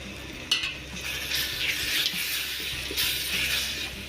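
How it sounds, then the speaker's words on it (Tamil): Masala is sautéed with softened tomatoes in a pan for chicken biryani, giving a moderate, continuous sizzle with bursts of spatula stirring and a sharp tap near the start, heard alone without speech. "இந்த ஸ்டேஜில் நம்ம எடுத்து வச்சுருக்க மசாலாவை ஆட் பண்ணி நல்லா வதக்கி எடுத்துக்கலாம்."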